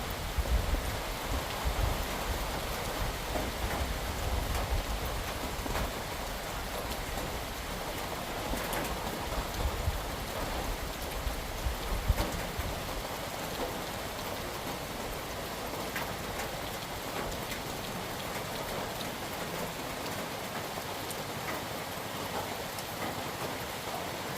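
Steady rain falls throughout, a dense, even hiss with occasional louder patters, continuous and unbroken with no voices.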